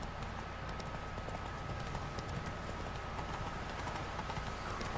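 A horse galloping in The Witcher 3: Blood and Wine, a steady rapid drumming of hooves over a constant low rumble, fairly faint and continuous for several seconds.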